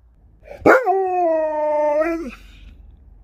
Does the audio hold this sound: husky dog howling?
yes